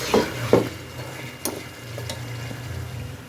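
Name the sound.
meat frying with yogurt for yakhni beef pulao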